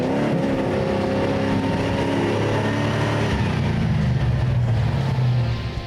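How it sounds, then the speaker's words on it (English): A Land Rover Defender engine strains loudly and steadily up a muddy hill during an off-road challenge event, its pitch rising and falling with gear changes before easing off at the end. "let's see if the lovely sounding Defender can master this climb"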